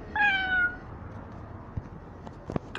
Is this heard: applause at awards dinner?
no